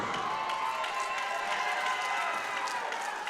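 A wrestling arena crowd cheers and roars continuously, a dense, loud wash of voices with scattered shouts and no pauses.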